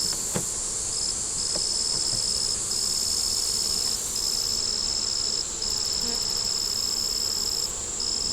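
Honey bees on a worker brood frame holding a little nectar produce a steady, close insect hum that runs without a break, with a constant high whine above it and a few faint knocks.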